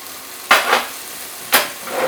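Mushrooms drop into a hot pan for a keto chicken stir-fry, bursting into two loud sizzling surges about a second apart, each easing into a steady frying hiss, close and with no talk.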